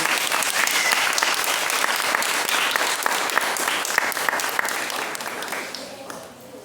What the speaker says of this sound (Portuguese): eu quero a calorosa salva de palmas para a vida da minha vida